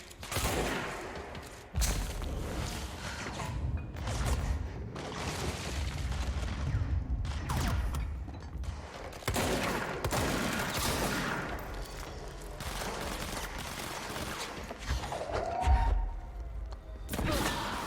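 Continuous loud gunfire and rocket blasts from the Control video game, dense bursts and booms rolling almost without pause for the whole stretch.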